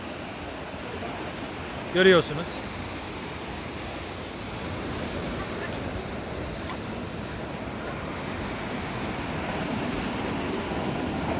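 Steady rushing, gurgling water at a Turkish water mill runs loud and unbroken throughout, with a brief spoken word near the start.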